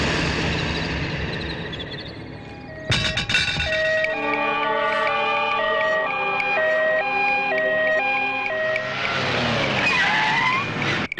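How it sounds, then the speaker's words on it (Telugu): An ambulance siren in a movie scene wails with a steady two-tone pattern, loud and close, after a burst of vehicle noise, then fades into traffic rumble near the end. "అది అంబులెన్స్"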